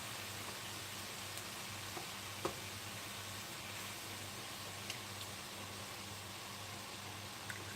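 Peanut butter chicken mixture with coconut milk being stirred in a pan, a steady low sizzle with a few faint clicks of the utensil against the pan, continuous and quiet with no talk.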